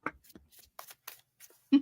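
Tarot cards are shuffled in quick soft riffling bursts, close and fairly quiet, with brief gaps between them and a louder thump near the end.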